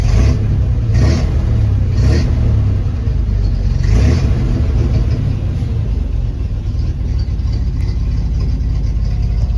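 A Lancia Flaminia engine fitted with a new Wosp starter, after standing unused for over a month, runs with a loud, deep steady rumble, a few sharp revving bursts near the start, then settles into an even idle.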